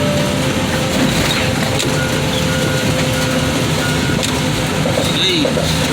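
A car crusher flattening a Mustang outdoors, a steady loud churn of heavy machinery with splintering, crunching metal and intermittent creaks, with voices speaking over the noise.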